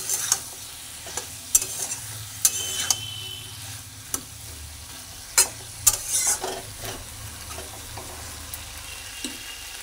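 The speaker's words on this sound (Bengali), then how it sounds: "অল্প করে জল দিলাম, দিয়ে সবজিটা ভালোভাবে মিশিয়ে ভেজে নিচ্ছি" Teasel gourd with poppy seed and cashew paste and a splash of water sizzles softly in a pan, punctuated by sharp intermittent clinks and scrapes of a spoon stirring.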